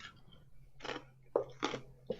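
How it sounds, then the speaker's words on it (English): Ice chewed close to a microphone, with several separate crunching bites spaced across a few seconds over faint background hum. "I'm chewing on ice."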